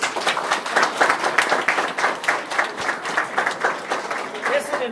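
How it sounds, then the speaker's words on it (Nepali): Guests at a Nepali Christian wedding clap during the ring exchange, a steady, fairly loud patter of many hands. Voices carry through it. "ल ताली बजाउँ सबैले"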